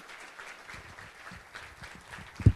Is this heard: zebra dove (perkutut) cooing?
no